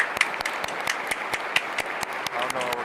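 A crowd claps at a White House press conference, a run of sharp, fairly evenly spaced claps with overlapping applause, moderately loud and close, with faint talk under it.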